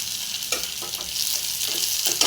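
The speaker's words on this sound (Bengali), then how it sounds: "টমেটোটা একটু ভাজা ভাজা করে নেবো।" Tomatoes frying with onions in a pan for a whole lentil curry, a steady close sizzle with a few scraping stirs of a spatula throughout.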